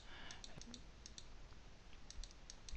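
Soft keyboard clicks from a computer's space bar and keys while someone edits in Photoshop, a scattered run of quiet, close taps with short gaps between them over a faint background hiss.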